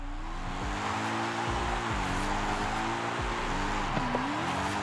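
Car drifting in Forza Horizon 5: a sustained, wavering engine whine with several sharp tire squeals during slides, steady and close.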